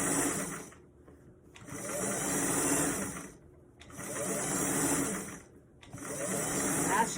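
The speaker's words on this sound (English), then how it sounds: "You're gonna do a lovely decorative stitch all the way around the" A sewing machine runs a decorative stitch around the top of a bucket hat in three steady, continuous bursts separated by short pauses, close and clear with no talking.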